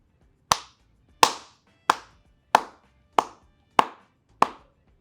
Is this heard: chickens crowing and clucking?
no